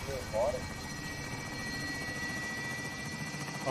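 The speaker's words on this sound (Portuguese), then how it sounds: "Helicóptero chegando pro depósito." A helicopter arrives in the Warzone video game with a steady whirring rotor drone that holds throughout the clip.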